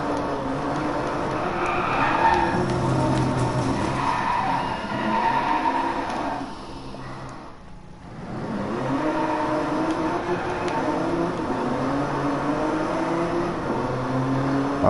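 Car drifting in the DriveClub racing game on PS4, a continuous loud engine roar with sustained tyre skidding and squeal, briefly dipping mid-way before the engine picks back up.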